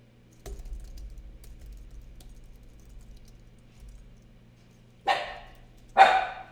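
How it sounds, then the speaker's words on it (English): A dog gives two sharp, loud barks close by, near the end of an otherwise quiet indoor stretch with faint keyboard typing and low room hum beforehand. "My dog is on constant patrol."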